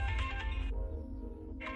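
A phone rings with a bright, repeating ringtone indoors, close and clear, in a dubbed South Indian film scene; the tone plays steadily with a short gap before resuming.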